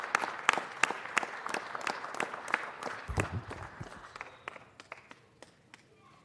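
A council meeting audience applauds in a sustained burst of scattered, moderately close hand claps, thinning out over about six seconds, with a brief low thump midway and a murmur of voices underneath.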